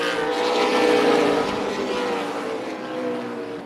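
Race cars roaring around the Tucson Speedway oval in a close pack, engines blending into a loud, steady high-pitched drone that swells and fades slightly as they pass, with no talk.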